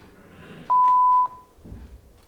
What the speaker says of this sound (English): When you hear the beep,